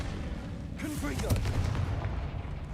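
Confringo fire spell blasting in Hogwarts Legacy during combat, heard as a dense, rumbling explosive burst with booming low end and crackle, set against ongoing game noise and a voice speaking underneath.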